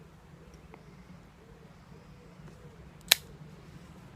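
A Zippo lighter gives a single sharp metallic click-strike, brief and crisp, standing out against a quiet low background hum.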